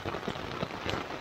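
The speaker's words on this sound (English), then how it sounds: "as you can hear it pouring" Heavy rain pours steadily onto a tent during a late-season thunderstorm in South Africa's Maluti Mountains, a dense, continuous close hiss with no other sounds over its short span.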